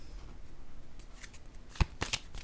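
Playing cards being shuffled and handled close by, producing a few quick, crisp riffling snaps after a quieter stretch, with no talking.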